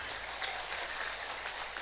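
Applause from a women's religious gathering, a steady patter of many hands clapping, fairly distant and even throughout.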